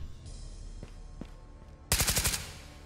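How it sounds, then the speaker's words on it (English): AK rifle fire in the video game Ghosts of Tabor: a sharp, fast burst of about six shots near the end, loud and close, after a few faint thuds and no talking. "Forgot I had this AK on me."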